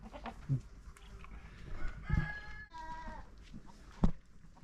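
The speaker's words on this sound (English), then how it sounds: "And these are called boar goats?" Boer and La Mancha goats bleat on a homestead farm alongside chickens, several wavering calls near and moderately loud amid low background noise and scattered clucks.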